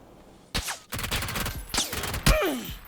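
Several sharp gunshots and bursts in the video game PUBG crack out in quick succession, loud and close, with a whooshing sound near the end.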